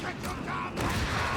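A grenade explosion in the real-time strategy game Company of Heroes 3, a heavy boom swelling out of continuous battle noise, with someone commentating over it throughout.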